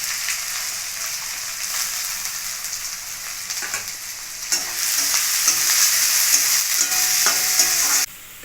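Ginger, garlic, onion and chopped chilli frying steadily in a pan, a continuous close sizzle that grows louder and brighter partway through, with faint stirring scrapes, no voices.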